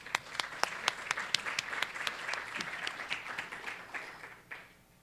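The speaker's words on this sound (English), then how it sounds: "So a round of applause for them." An audience applauds at a college freshmen honors ceremony, a dense, steady run of claps with sharp individual hits standing out, fading toward the end.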